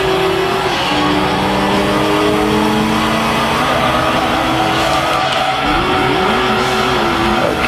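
Car drifting in the racing video game Gran Turismo 2, with a steady, loud engine drone and gliding pitch shifts of the tires squealing through slides. The sound runs continuously with no talk.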